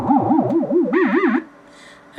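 Synthesizer VCO oscillator tone from the Pocketband app, a loud warbling pitch sweeping up and down in steady vibrato-like waves, jumping higher near the end before cutting off to a faint tail.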